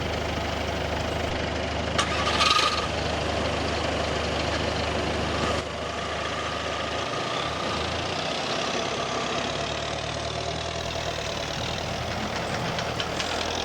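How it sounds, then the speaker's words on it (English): Road vehicles including a van arriving on a road beside a railway, a steady engine rumble and idling drone that continues throughout, with no talking. "Two road vehicles have now arrived."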